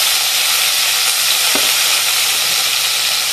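Steady, loud sizzling of ginger and garlic dropped into hot oil for a Marathi makul mutton masala, a dense continuous hiss with a brief stir or scrape partway through; no voices.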